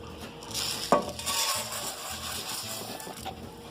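Rice frying in a splash of oil in a pan, with a steady soft sizzle, a few scraping stirs and one sharp clink of a utensil against the pan near the start.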